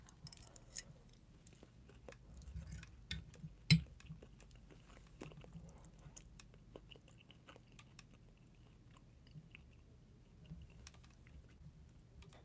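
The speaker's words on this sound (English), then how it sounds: "I just noticed that this is picking up chewing sounds." Soft, close chewing of food during an evening manicure, faint irregular crunches and mouth sounds with a few sharper clicks over low background hiss.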